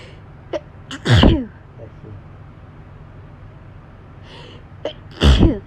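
Two loud, forceful hay fever sneezes, each preceded by quick sharp inhales, spaced a few seconds apart, close to the microphone.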